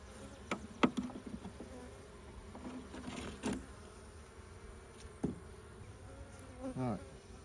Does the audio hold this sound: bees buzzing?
yes